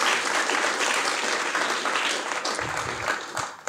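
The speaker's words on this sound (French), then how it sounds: "je vous demande d'applaudir bien fort nos invités ce matin" An audience claps loudly and steadily for guests at a morning round-table event, a dense continuous wash of applause that eases slightly toward the end.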